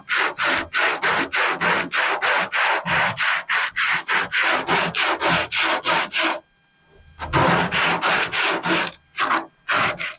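Folded sandpaper rubbed by hand over a Mustang II hood, working into the back corners: loud, close, rhythmic rasping strokes in steady rapid runs, broken by one brief pause and a few short gaps, no talking.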